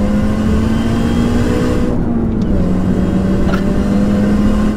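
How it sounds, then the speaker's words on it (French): A supercharged Mini Cooper S R53 engine holds a loud, steady revving drone close by, with the supercharger's whine riding on top and no talking. "Le compresseur, ça apporte énormément d'agréments moteur, ça apporte du caractère, il y a le son du compresseur."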